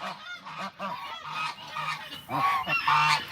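Geese at an animal sanctuary honk repeatedly and loudly at close range, a run of harsh nasal calls that grows more intense toward the end.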